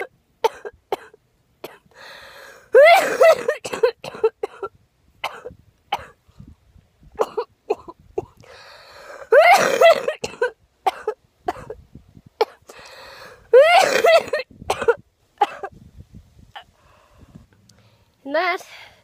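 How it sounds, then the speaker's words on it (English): Repeated bursts of harsh coughing come in three long clusters, close and loud, with throat clearing and quiet pauses between fits. "is what a coughing fit looks like."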